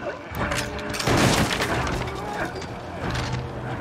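Gunfire in the video game Little Nightmares II, a heavy booming blast and crackling burst heard loud and close amid rumbling game noise, with voices talking over it.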